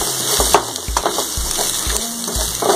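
Grated coconut gets stirred into prawns frying in a pan, with a low sizzle under repeated scraping and knocking of the spoon against the pan in an uneven rhythm, close up and with no voices.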